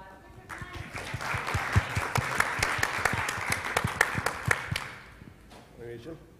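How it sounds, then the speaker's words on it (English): Conference audience at an education panel discussion in Dubai applauding, a dense burst of clapping that swells, holds for several seconds, then tapers off into a quieter room with a voice. "Give them a round of applause."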